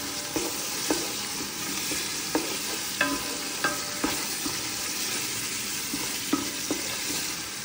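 Spoon stirring tomato paste in a pot over heat, with repeated scraping knocks against the pot over a steady sizzle, close and moderately loud.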